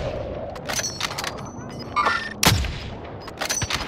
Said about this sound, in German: oh, Schüsse von rechts.